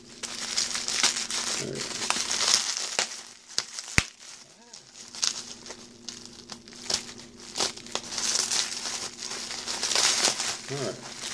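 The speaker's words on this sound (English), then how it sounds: "We will find the best way to cut this open without making a mess." A package wrapped in bubble wrap is cut open and unwrapped nearby, making steady crinkling and crackling plastic rustles, with a sharp snap partway through. Someone talks briefly over it.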